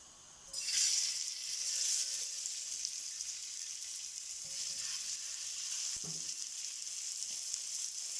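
Meatballs dropped into hot oil for a pasta dish set off a loud, broadband sizzle that rises sharply and stays steady at close range, with a faint clink partway through and no talking.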